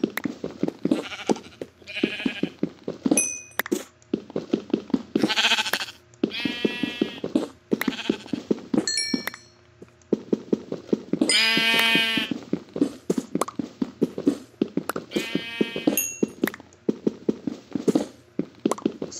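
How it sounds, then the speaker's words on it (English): Sheep bleat repeatedly in a video game, with several drawn-out cries amid thumps and hoof-like steps. "Sheep."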